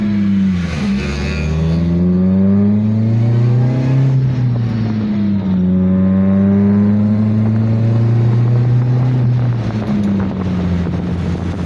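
A supercharged car engine accelerating on a cold morning, revving up loud and close in two rising pulls that fall back between them, with wind noise over the microphone and no talking.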